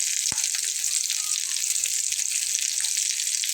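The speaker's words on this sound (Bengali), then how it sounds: "তো আমি এটাকে একটু ডার্ক করে ভেজে নেব।" An omelette bun paratha fries in a pan with a steady, loud hiss and crackle of hot oil that stays close and even throughout, with no talking.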